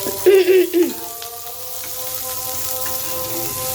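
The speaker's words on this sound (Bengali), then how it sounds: "এরপর পেঁয়াজ কুচি, কাঁচা লঙ্কা কুচি আর এই ক্যাপসিকাম কুচিগুলো আমি ভেজে নেব" Chopped onion, green chili and capsicum fry in ghee, starting with a brief voice and then a soft, steady sizzle that carries on evenly under a faint tonal hum.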